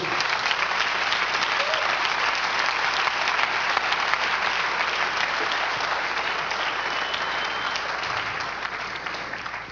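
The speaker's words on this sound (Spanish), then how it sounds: "Denle un aplauso al Señor Jesús." A church congregation at a Spanish-language service applauds loudly and steadily for nearly ten seconds, a dense wash of many hands clapping at once that eases off slightly toward the end.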